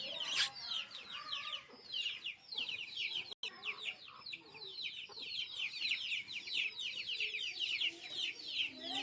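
Many village chickens returning to their coop cluck and chatter close by in a busy, overlapping stream, with a brief sharp knock partway through.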